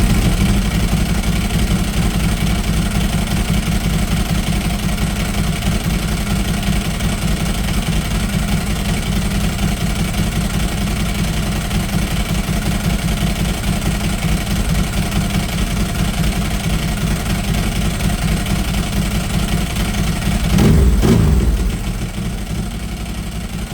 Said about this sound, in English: Then verify the idle and give it a couple of revs for good measure.